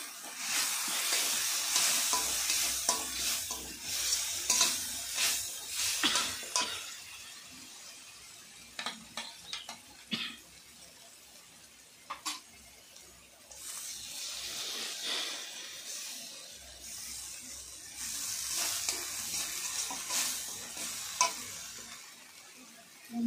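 Poppy seed and peanut paste frying in a pan, with bursts of hissing sizzle and irregular stirring and scraping clicks, close, rising and falling in loudness over a long stretch without speech.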